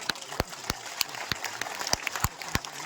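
Political rally crowd for a nomination filing in Jammu gives scattered, uneven claps, sharp separate smacks rather than a full ovation, fairly faint and sparse over a few seconds.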